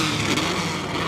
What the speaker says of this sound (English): Darren, I can hear all the cars starting up